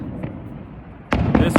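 Fireworks bursting at night in Phoenix, heard as a steady low rumble followed by a loud sudden blast and crackling pops near the end, with a voice faintly audible underneath.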